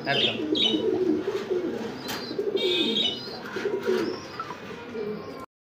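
A pair of red Kalsi Gola pigeons coo repeatedly at close range, with soft throaty calls running through the whole stretch alongside faint chirps and background noise.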